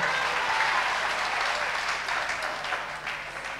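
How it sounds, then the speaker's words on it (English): A church congregation gives a clap offering: sustained, dense applause from many hands, slightly distant and easing a little toward the end, with no voices over it. "Give Jesus a clap offering."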